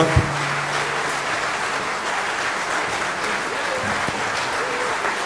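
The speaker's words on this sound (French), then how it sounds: "Je vous donne d'applaudir Clémence." Audience applause at a 2016 New Year's greetings ceremony in Béthune, a dense, steady wash of clapping that holds for the whole stretch, with a brief sharp knock right at the start.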